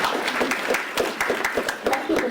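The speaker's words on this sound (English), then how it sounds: "Give her a round of applause." Brief round of audience applause after a conversation with the Ai-Da robot, scattered clapping from a modest crowd with distinct individual claps, a voice briefly audible underneath.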